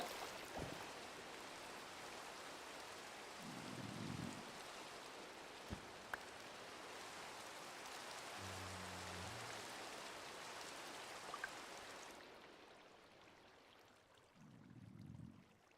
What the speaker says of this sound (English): Why is it raining at nighttime again?